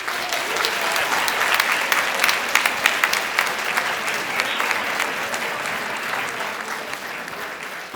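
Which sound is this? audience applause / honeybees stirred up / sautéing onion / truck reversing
audience applause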